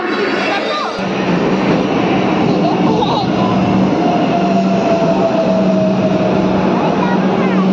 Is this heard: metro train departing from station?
yes